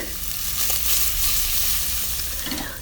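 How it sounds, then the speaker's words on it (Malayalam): Cinnamon, cloves, cardamom, pepper and chopped onions sizzle steadily in hot oil for Saudi kabsa, a loud continuous frying hiss with faint stirring and no talk. "ഈ ചൂടായ ഓയിലിലേക്ക് പട്ട ഗ്രാമ്പു ഏലക്ക കുരുമുളക് എന്നിവ ഇട്ട് കൊടുക്കാം ഇതിലേക്ക് അരിഞ്ഞു വെച്ചിട്ടുള്ള രണ്ട് ഉള്ളി ചേർത്ത് കൊടുക്കാം"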